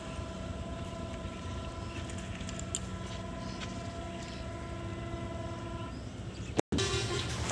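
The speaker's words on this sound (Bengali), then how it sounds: "দেখেন কত দ্রুত গতিতে ট্রেন আসতেছে" A train approaches along tracks beside a canal at Amdanga, giving a steady, loud rumble with sustained tonal whining that holds throughout. The sound cuts off abruptly just before the end.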